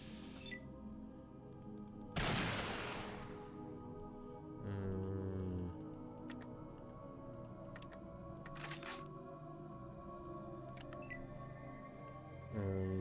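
A sharp, loud gunshot burst from the video game Fallout rings out and decays over sustained in-game music, followed by a couple of smaller impacts later.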